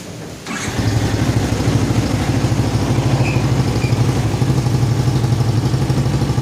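A Yamaha Vixion motorcycle, just repaired after a total electrical failure, fires up after a brief crank and settles into a steady, close, loud idle with an even rapid pulse and light mechanical clatter.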